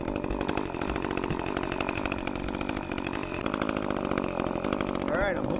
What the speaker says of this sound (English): I've got chainsaw going